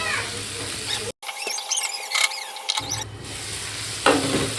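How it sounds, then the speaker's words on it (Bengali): Chopped tomatoes with salt cook in a hot pan, giving a steady close sizzle and stirring scrape with a brief silent break before the frying noise resumes. "দেড়খানার মতন টমেটো আমি কেটে রেখেছিলাম, ওটা দিয়ে দিচ্ছি।"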